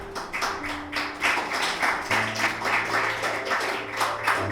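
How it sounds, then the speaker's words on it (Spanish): Church congregation applauding after a prayer, a dense steady patter of many hands clapping together under faint sustained organ or keyboard tones, moderately loud throughout. "Un aplauso al Señor"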